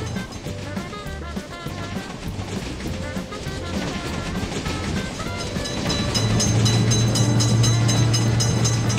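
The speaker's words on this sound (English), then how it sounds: "Train is coming! Attention! Train is coming!" A train rolls through a railroad crossing with a rumbling, clattering rush of wheels and cars that swells louder toward the end, a low steady tone rising near the close.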